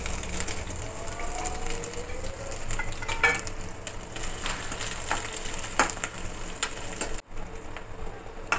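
Chopped garlic and onion fry in a little oil left over from frying paneer for chilli paneer, a steady close sizzle with a few faint clinks and scrapes of stirring.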